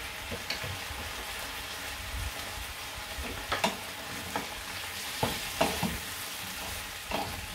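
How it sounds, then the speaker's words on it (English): Beef and peppers cook in their own juices in a pan, giving a quiet steady sizzle and bubbling with scattered sharper clicks and spatters near the end. "You can see the meat is leaving its juices, and the juices with the peppers."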